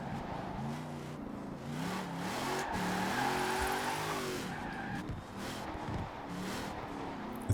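A Honda NSX-R GT tuned to 1300 horsepower in Forza Horizon 4 revs hard with rising and falling engine pitch, its tires squealing and skidding throughout, a sustained busy racing sound with no speech.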